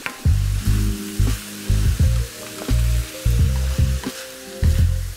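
Vegetables fry in a large pan or Dutch oven for shepherd's pie, a loud, steady sizzle with repeated stirring bursts running through it, close and alone.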